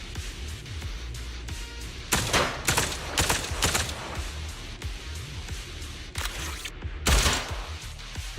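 Bursts of gunfire in the game Trigger as high-pressure ether containers are shot, several loud volleys with pauses between them, over steady background game noise.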